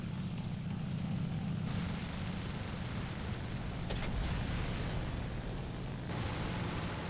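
Steady low propeller-engine drone of a BV 141 aircraft in War Thunder, droning continuously with a brief crackle midway, a damaged left wing, no voices.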